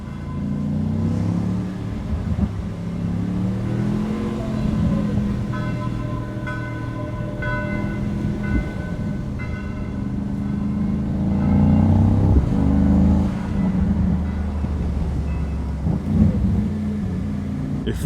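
A 2026 Mercedes AMG Mythos PureSpeed V8 rolls through a city center, its engine a deep, steady rumble close by, swelling into a louder burble partway through before easing again.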